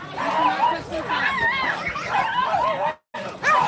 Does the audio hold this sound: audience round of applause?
no